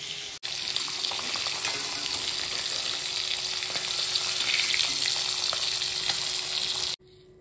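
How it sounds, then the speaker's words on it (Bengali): Fish frying in a pan, a dense continuous sizzle and crackle lasting several seconds, close and steady, cutting off abruptly at the end. "আমার মাছ ভাজা হয়ে গেছে।"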